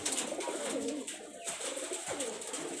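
A pigeon coos nearby in soft, throaty rolling calls, repeated a few times against a faint background hiss.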